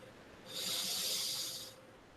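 A single long, breathy hiss rises and holds for about a second before fading, like a voice imitating a slow, deep inhalation, close and moderately loud.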